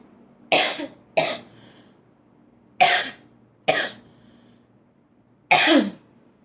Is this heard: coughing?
yes